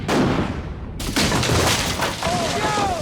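A cannon fires at a Brandywine battlefield reenactment, giving a loud booming blast with a long rumbling tail that echoes outdoors, while voices can be heard through the noise.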